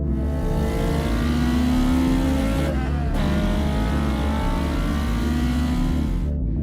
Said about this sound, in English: The second you hit the throttle, there is an immediate reaction from the motor.